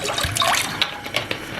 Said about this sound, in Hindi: तो हमने एक पैन लिया है, इसके अंदर हम पहले पानी शामिल कर लेते हैं,